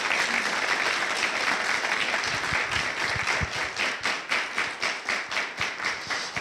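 An audience applauds at a village song-and-story gathering, a dense wash of clapping that thins into a slower, rhythmic group clap near the end, with no voices over it.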